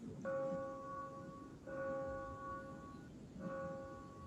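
A bell tolls three times during a stage performance of Macbeth, each stroke ringing with a clear sustained tone that fades before the next, set against a faint room hum.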